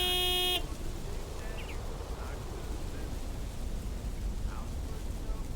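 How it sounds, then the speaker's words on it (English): Big white delivery truck in the Lake video game sounds one short tonal honk of its horn at the start, followed by quiet outdoor ambience with faint distant chirps. "Big, white, wobbly, and with a honking great horn."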